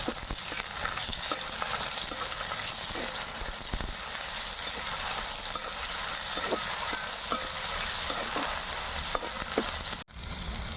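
Curry leaves and onions fry in oil for Kerala nadan chicken perattu, a steady loud sizzle with scattered crackles and stirring scrapes throughout, briefly cutting out near the end.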